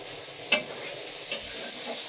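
Shrimp curry cooks in a pan with a steady frying sizzle, broken by two short scraping stirs, all close and moderately loud.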